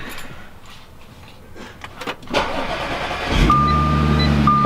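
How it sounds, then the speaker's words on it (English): An Audi B8 S4 with a modified OEM coolant pump cranks and its engine fires, settling into a steady close idle with a faint whine on top; no talking. "For the moment of truth, let's see if the car starts."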